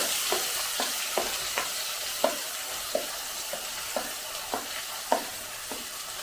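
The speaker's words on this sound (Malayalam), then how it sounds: "ഞാൻ ഇതിനകത്തേക്ക് ഒരു മീഡിയം സൈസ് സവാള ചെറുതായിട്ട് അരിഞ്ഞു വെച്ചിട്ടുണ്ട് അത് ചേർത്ത് കൊടുക്കാണ്" Chopped medium onion frying with khichdi in a pan, a steady sizzle under regular spatula scrapes roughly every half second, close and moderately loud, with no voices.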